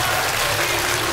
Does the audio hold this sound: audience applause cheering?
yes